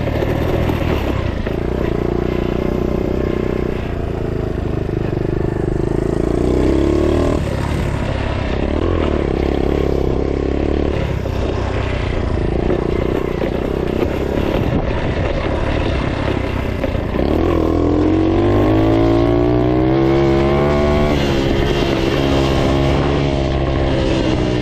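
A small Honda CT70 motorcycle engine runs in second gear without bogging, making a loud, continuous buzzing drone with shifting revs and some rattling clatter throughout.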